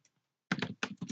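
A computer keyboard clicks in short bursts of quick keystrokes after a brief pause, close by and fairly quiet.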